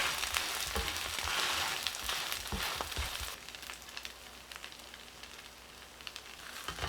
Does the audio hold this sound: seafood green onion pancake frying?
yes